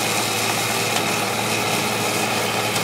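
A John Deere snowblower engine runs steadily at close range, a continuous droning hum that holds level without any talking.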